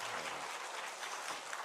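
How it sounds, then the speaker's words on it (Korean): A church congregation applauds during a Sunday morning service, producing a brief, dense wash of clapping that is fairly faint and has no talking over it. "격려와 축복과 사랑의 박수 해주시면 좋겠습니다"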